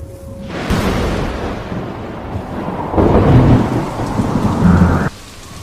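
Heavy rain pours onto dry grass on the Serengeti plains while thunder rumbles, a dense, loud, steady roar that swells midway and ends abruptly.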